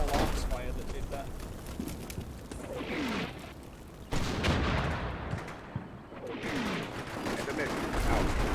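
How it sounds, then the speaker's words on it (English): Small arms gunfire in a war video game battle, bursts of shots and distant booms rolling through a dense, noisy battlefield soundscape, with someone talking over the action. "Small arms fire that did that."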